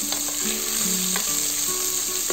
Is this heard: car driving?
no